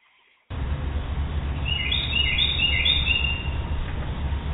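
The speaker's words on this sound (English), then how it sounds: "That's the bird." A recorded bird call plays over a radio call-in show line: a burst of chirping, warbling notes rises over a loud steady hiss and hum, heard alone without speech.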